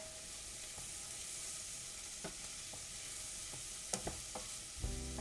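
Onions sizzling and frying quietly in a pan in a home kitchen, a soft continuous hiss with a few sharp clinks and taps of a utensil near the end.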